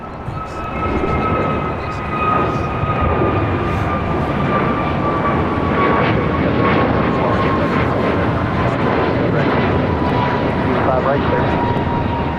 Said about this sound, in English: This is American Airlines Flight 1105 taking off to Charlotte on an A321 Neo.